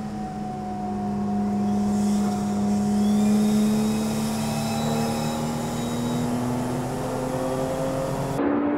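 Sports cars race at high speed on a superspeedway, a steady loud engine drone with rising pitch as they hold the throttle, continuous with no talk, cutting off abruptly at the end.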